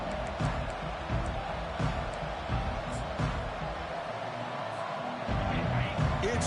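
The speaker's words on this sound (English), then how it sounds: "It's early, but this crowd is fired up. Listen to this noise here." The stadium crowd in the NCAA 25 college football video game gives off a dense, sustained roar, with rhythmic swells and chanting pulses and a louder surge near the end.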